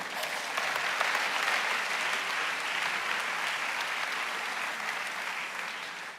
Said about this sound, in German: aber wunderbaren Applaus.